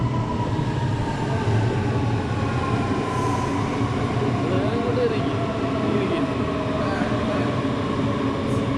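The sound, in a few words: metro train in Germany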